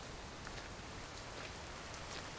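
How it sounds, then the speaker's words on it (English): Steady rain pours in the survival video game The Infected, a dense even hiss of drops on surfaces that holds constant throughout, with no voices. "I love the sound of rain."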